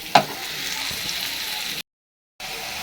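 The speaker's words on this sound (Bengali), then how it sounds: "এই তো এখানে দেখো আলুটাকে ভাজতে দিয়ে গেছি আজকে হবে আমাদের আলুর দম" Potatoes frying in a pan for aloo dum, a soft steady sizzle with a brief sharp crackle near the start and a short silent gap before it resumes.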